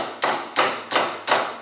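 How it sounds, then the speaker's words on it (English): Four sharp metallic hammer blows land at an even rhythm on a control arm bushing of a 1996–2000 Honda Civic, each strike close and loud with a short ringing decay. "you can take a hammer and something of that caliber, because you can't hardly pull on them"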